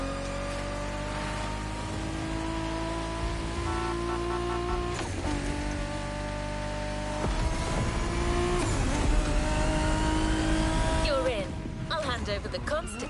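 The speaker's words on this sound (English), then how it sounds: "Good thing you're driving the 1969 Camaro Z28." A 1969 Camaro Z28 V8 revs and accelerates hard in the racing game Motorfest, engine pitch climbing through repeated gear shifts with brief drops between them, loud and close under a voice.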